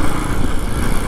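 A Jawa 42 Bobber Black Mirror motorcycle engine runs close and loud, a steady, coarse, vibrating rumble that sounds unrefined.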